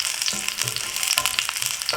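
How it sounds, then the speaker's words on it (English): Ginger slices and garlic cloves frying in olive and sesame oil give a steady, close, dense sizzle with bright crackling pops throughout, continuous and unbroken, with no voices. "We'll cook it for a minute or two to infuse the oil with the flavors of ginger and garlic"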